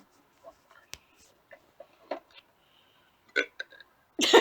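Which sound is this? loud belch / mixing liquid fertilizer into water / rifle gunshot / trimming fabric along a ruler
loud belch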